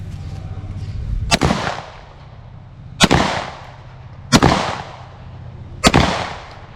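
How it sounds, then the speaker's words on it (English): Four loud, sharp gunshots from a firearm during live range firing, spaced roughly one to one and a half seconds apart, each with a short echoing tail over a low steady hum. "I have 4 more rounds. I'm going to fire again."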